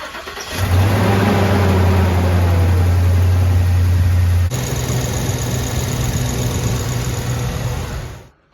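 A 2015 Ford F-250 pickup's 6.2-litre engine cranks and catches, roaring loudly at first, then settling into a steady idle before cutting off at the end, inside a garage.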